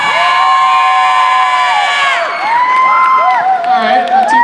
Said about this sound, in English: it's going to be by show of applause